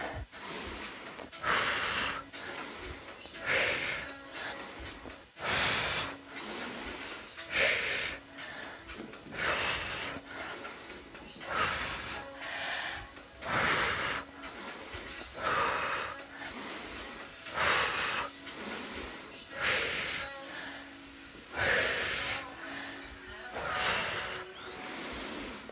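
Heavy, rhythmic breathing during a yoga and tai chi workout, with strong repeated inhales and exhales following a steady pattern, close and fairly loud throughout.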